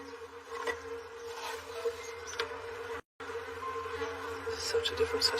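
Honey bees buzz softly around an active, healthy frame hive in a garden, a thin steady drone with individual bees swelling past, cut by a brief dropout midway.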